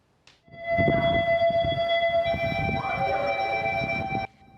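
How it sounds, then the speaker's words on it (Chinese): A flood warning siren sounds across St Mark's Square in Venice, a sustained steady tonal wail with stacked harmonics that starts abruptly, holds loud for about four seconds over a rumbling background, then cuts off. "意大利威尼斯的圣马可矿场一直听到大水的警报"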